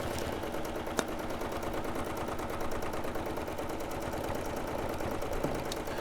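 A sewing machine running steadily at speed, a continuous close mechanical whir with a fast even needle clatter that never pauses, alone without talk.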